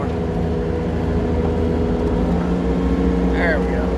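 A skid steer engine, used for hauling rocks, runs with a loud, steady diesel drone that climbs slightly in revs over the few seconds; a person speaks briefly over the engine.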